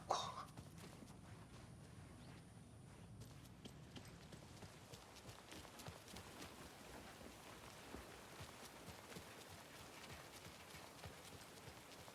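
Rain in Alan Wake II, quiet steady patter of drops on surfaces with a soft bump at the start and scattered sharper ticks throughout.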